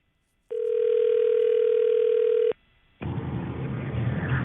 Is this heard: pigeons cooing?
no